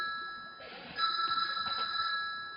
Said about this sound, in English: Sorry, that's my phone right here, I don't know if you can hear that